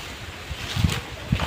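Strong wind gusts roar across an outdoor setting, buffeting the microphone with low rumbling thumps over a steady airy hiss, with no talking.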